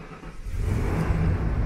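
A Toyota Hiace van engine idling after a cold start, its low, even rumble rising slightly as it settles and running steadily and close by, with no talking.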